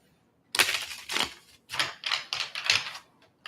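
Playing cards are shuffled in a series of crisp riffling bursts, five or six quick rattling strokes close by with short pauses between them.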